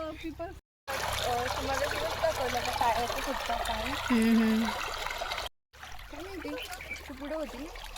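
A stream joining a river in a village outdoors, with a steady trickling and rushing water bed running throughout beneath conversation between people walking nearby.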